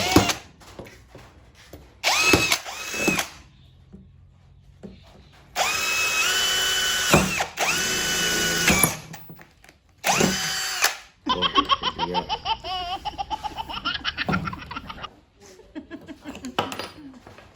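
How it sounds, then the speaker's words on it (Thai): A power drill bores into PVC pipe for a clothes drying rack in several loud, close whirring bursts separated by short pauses. "ตัวนี้นะครับเราก็จะเจาะแบบนี้เลย"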